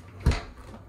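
A heavy door swinging shut, a single dull low thud close by with a short rumbling tail, in a quiet interior.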